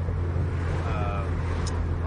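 Interior of a moving car driving through salt marsh country in Essex, Massachusetts, with a steady low road and engine rumble and light wind noise throughout.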